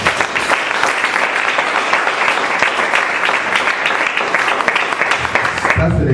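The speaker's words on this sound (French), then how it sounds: "Acclame d'abord Jésus, j'attends." Congregation at a Christian sermon gathering bursting into sustained, loud applause and cheering that fills the whole stretch, with a few shouts mixed into the clapping.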